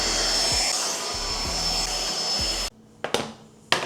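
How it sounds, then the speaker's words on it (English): A household vacuum cleaner drones steadily and loudly with a few low thumps as it is pushed around a home during holiday chores, then cuts off abruptly, leaving a quieter room with a couple of brief clatters. "And now I'll just vacuum real quick until the timer goes off."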